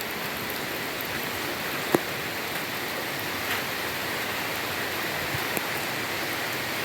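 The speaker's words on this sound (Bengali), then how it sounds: "পুরো বৃষ্টি পড়ছে, পুরো বৃষ্টি পড়ছে" Heavy rain falls steadily outdoors, a dense continuous hiss with a few sharper drop impacts near the start and toward the end, and no voices over it.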